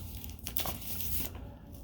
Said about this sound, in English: I'm gonna have to bust out the scissors for this.